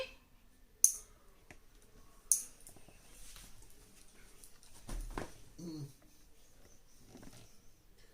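A child's nails being clipped at home, with sharp isolated clicks of the clipper and quiet handling sounds amid close talking voices.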